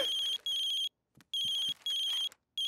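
A cartoon telephone rings with a bright electronic tone in four evenly spaced bursts separated by short silences, close and clear with no voices.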